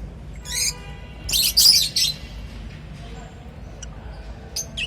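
A pair of lovebirds gives sharp, high chirps in short close bursts, loudest early on, then a few quieter calls later.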